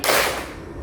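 A single sharp hand clap in a classroom clapping game rings out once, loud and close, then fades into room noise.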